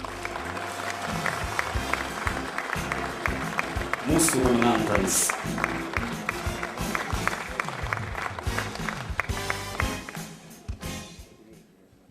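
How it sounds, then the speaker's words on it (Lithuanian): An audience at a 2012 Lithuanian award ceremony applauds nominees, with a rising burst of clapping from a crowd indoors under a presenter's amplified voice, fading near the end. "Mes plojame."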